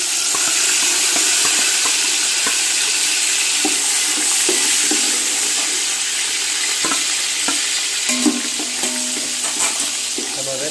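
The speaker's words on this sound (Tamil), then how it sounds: "இப்போ நம்ம வந்து அரிஞ்சு வச்சுருக்கிற வெங்காயத்தை இதில் போட்டு நம்ம நல்லா வணக்கணும்" Chopped onions sautéing in oil in a pan for chicken biryani, a loud, continuous close-up sizzle with scattered spatter pops and intermittent stirring scrapes.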